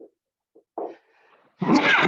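A single short sneeze is heard during an online precalculus class, a brief burst that is soon followed by someone talking.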